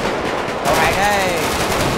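Rapid automatic gunfire from a GTA 5 game with a Hulk mod, a dense rattling burst mixed with chaotic game noise, loud and continuous across the moment, while a voice calls out excitedly over it.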